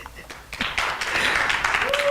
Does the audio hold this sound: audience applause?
yes